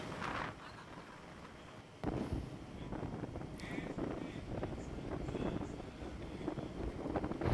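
Strong wind gusts buffet the microphone at Manakara beach, a rough, continuous rumble that grows louder after a short lull, with faint voices underneath.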